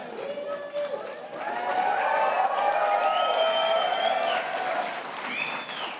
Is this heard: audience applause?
yes